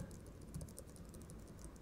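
Soft, steady typing on a Logitech Craft computer keyboard, quiet and close, with a continuous patter of muted keystrokes and no talking.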